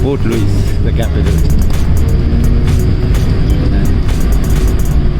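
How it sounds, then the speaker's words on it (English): Bus riding to Port Louis, Mauritius, its engine giving a continuous low rumble with road noise and occasional rattles, while a voice speaks over it at the start. "we are on the bus again to Port Louis"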